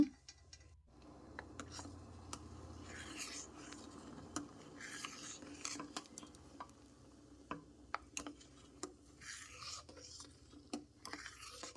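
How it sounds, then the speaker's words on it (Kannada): Quiet scraping and tapping of a utensil against a pot of moong dal payasa made with coconut milk, irregular clicks and rubs repeating close by over a low background hum. "ಈಗ ಇದನ್ನು ಕಲಿಸ್ಕೊಳ್ಳೋಣ"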